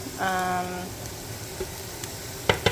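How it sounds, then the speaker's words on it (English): Cauliflower rice sizzles in a skillet with a steady crackling hiss, broken by a few scraping stirs and a brief tonal beep early on. "You can hear it sizzling."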